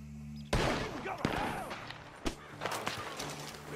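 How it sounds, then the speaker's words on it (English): Gunfire rings out in Red Dead Redemption 2, a few sharp loud shots spaced irregularly with echoing tails and clatter between them. "The gunshots are coming from that barn!"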